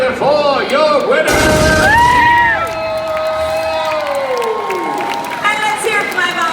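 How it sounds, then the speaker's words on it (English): A theme-park audience at Fear Factor Live, Universal Studios Florida, cheers and applauds a winner, a crowd roar under amplified show music and effects, with a loud burst early on. "Put your hands together for your winner!"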